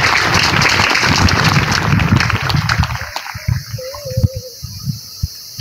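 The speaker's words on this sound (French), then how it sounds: "tu peux l'acclamer" A congregation at an evangelisation campaign applauds and cheers for Jesus in a dense, loud wave that thins out into scattered claps, with a voice rising briefly near the end.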